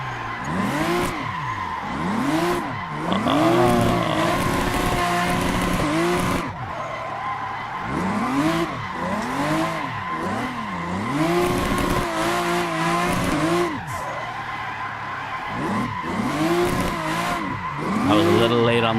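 A race car drifting in Assetto Corsa, its engine rising and falling through repeated throttle blips and gear sweeps while tires squeal and skid continuously, loud and close, with someone talking over it.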